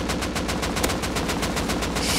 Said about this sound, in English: This is why we move while shooting.